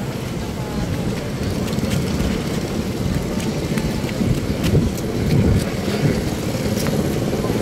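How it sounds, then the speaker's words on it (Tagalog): Steady heavy rain roars continuously, with a dense low rumble and occasional louder drops or splashes. "Lakas ng ulan."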